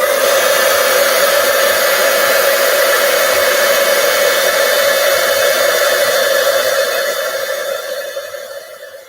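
A heat tool blows steadily to melt white embossing powder on a card, a loud, close, continuous whooshing whir that holds for several seconds and then tapers off near the end, with no talking.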